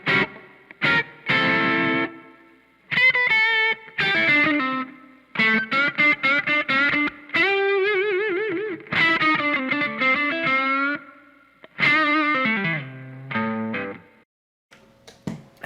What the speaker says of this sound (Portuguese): eu vou ligar o reverb do pedal para vocês sentirem.